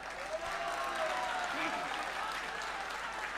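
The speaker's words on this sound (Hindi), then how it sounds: "बंगाल वालों एक बार ताली बजा दीजिए आप लोग।" Crowd applause at a live Hindi poetry and song stage event in Bengal, a steady patter of clapping from an audience heard from some distance, with a faint voice over it.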